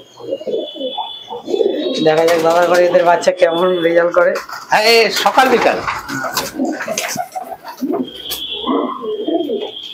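Pigeons of an Andhra tournament-flying breed coo in soft rolling bursts close by, mixed with chirps, while people talk over them.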